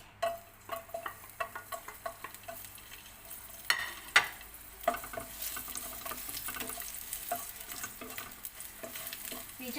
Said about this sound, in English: we just have to saute just a few seconds until the garlic's fragrance will come out.